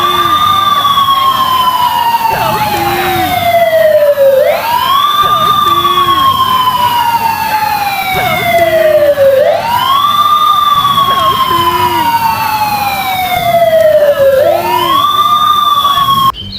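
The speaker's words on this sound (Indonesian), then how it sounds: "ternyata benda ini adalah mobil pemadam kebakaran" A loud toy fire truck siren wails in repeating rising-and-falling sweeps, about every five seconds, steady and close for the whole stretch.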